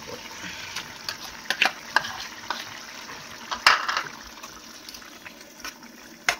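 Boiled gongura leaves stirred with prawns in a pan give faint, intermittent wet scrapes and soft squelches, with a few sharper clicks of the spoon against the pan.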